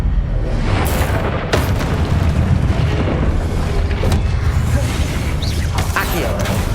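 A fire spell bursting in the Hogwarts Legacy video game, a loud booming blast at about 1.5 s over continuous heavy combat noise with further crashes and impacts throughout; a voice speaks over it.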